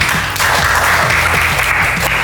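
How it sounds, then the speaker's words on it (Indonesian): Senior high school students clapping together in a school hall during a legal-awareness session, a brief loud burst of group applause with a faint rhythmic pulse and some voices mixed in. "yang main Facebook boleh tepuk tangan"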